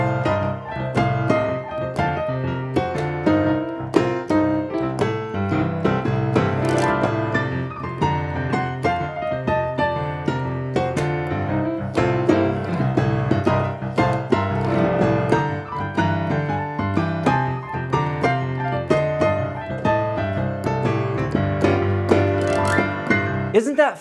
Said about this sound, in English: you're gonna learn the coolest blues chord progression. It is called the 12-bar blues